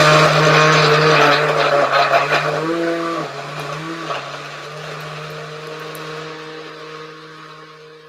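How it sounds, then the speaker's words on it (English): A blender blending a Girl Scout cookie milkshake whirs loudly with a steady pitched hum that dips and shifts as it works, then settles into a fading drone. "Blender is running away from me there."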